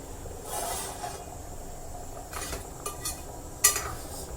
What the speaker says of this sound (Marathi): झाकण काढून बघूया